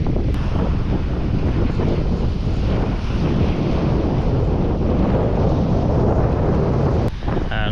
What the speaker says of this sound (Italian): il mare d'inverno è una bomba